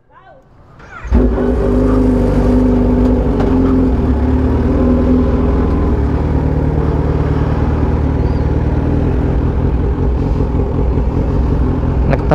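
A Kawasaki Z H2 motorcycle rides off from a scooter meet. Its engine roars up after a second and holds a loud, steady, close growl to the end.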